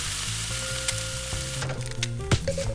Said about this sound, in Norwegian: Og vi smeller under oppvasken, og hiver inn litt pomfri.